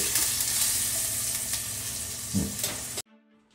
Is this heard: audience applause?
no